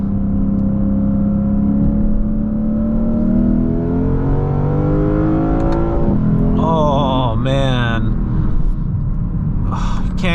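Lexus IS500 V8 engine droning steadily while driving, a loud continuous rumble that rises and falls slightly in pitch with a brief rev change partway through, with speech over the engine.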